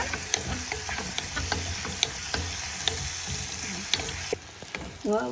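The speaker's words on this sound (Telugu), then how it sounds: "ఉల్లిగడ్డ ఇలా కొంచెం వల్తే కావాలండి" Onions fry in a pan for okra tamarind gravy, a steady close sizzle with small pops and light clicks of stirring throughout.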